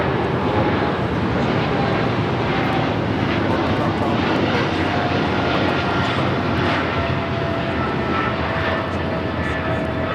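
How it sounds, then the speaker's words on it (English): An American Airlines Boeing 777-300ER takes off at LAX for Miami with a loud, dense, continuous jet roar close by, holding steady for the whole stretch without any voices. "This is American Airlines 2765 taking off to Miami on the 777-300ER."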